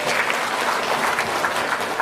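An audience at a motivational talk breaks into brief, steady applause, a dense even patter of many hands clapping at moderate volume with no one speaking.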